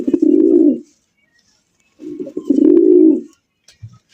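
Red Bombay pigeons, a pair sold at a local pigeon market, give two long, low, rolling coos close by, with a pause between them and a faint short call at the end.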